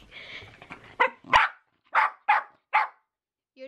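A dog barks five or six times at close range in sharp, separate bursts with short pauses between them, after a brief rustle.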